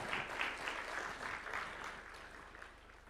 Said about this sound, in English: Another round of applause for His Excellency